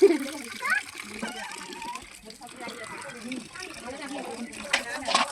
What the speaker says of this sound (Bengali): তো দেখো এই যে আমগুলো ধুয়ে নিচ্ছি। এগুলো সব ফজলি আম।